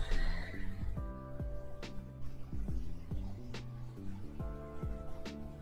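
Horse neighing in the Star Stable Online video game, a whinny at the start followed by a soft game music melody of repeated plucked notes, fairly quiet.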